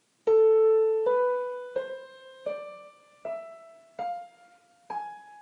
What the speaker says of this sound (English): The minor harmonic scale sounds like this.